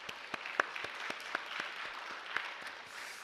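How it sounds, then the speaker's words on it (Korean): A church congregation gives applause at a Korean church service, with soft, scattered claps and a few sharper hand strikes standing out against a quiet background. "영광의 박수 올려드리겠습니다."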